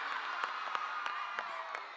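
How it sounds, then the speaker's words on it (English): A school annual day crowd gives a round of applause for the participants, a steady dense wash of many hands clapping from moderately far off, with light accents scattered through it. "A round of applause for all the participants"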